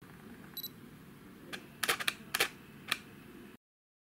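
A Canon EOS 6D fires its shutter several times: a faint early beep, then a handful of crisp mechanical clacks in quick irregular succession, close and fairly quiet, ending in silence.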